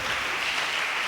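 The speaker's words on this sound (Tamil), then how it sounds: "கைத்தட்டி தேவனை ஸ்தோத்திரம் பண்ணுங்க." A church congregation claps hands together in a dense, continuous burst of applause, loud and close, with no voices standing out.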